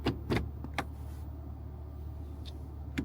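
A Honda City RS gear shifter is moved inside the car, giving a few short, close mechanical clicks and clunks in quick succession at the start and again near the end over a quiet cabin hum.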